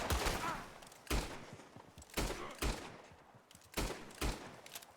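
Gunfire in a Red Dead Redemption 2 gunfight: five or six sharp, loud shots at roughly one-second intervals, each with a ringing tail, over low background game ambience.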